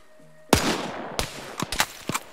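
A booming gunshot opens a burst of game gunfire, followed by several more sharp, scattered shots over a few seconds, loud and near, with rumbling echo trailing between them.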